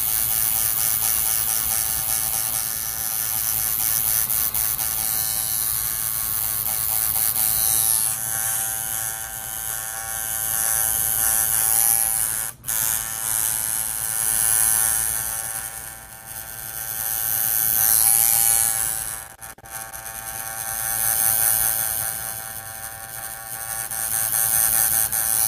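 Tattoo machine with a fine detail needle buzzing continuously at close range, a dense, even mechanical drone with slight swells and two short breaks, and no voices over it.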